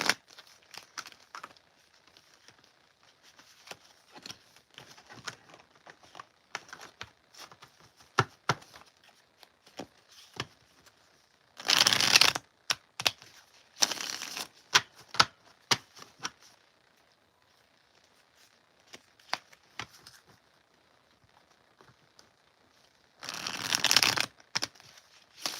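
Tarot cards shuffled by hand in repeated bursts, with two longer riffling passes and scattered soft flicks and taps in between, close and fairly loud against a quiet room.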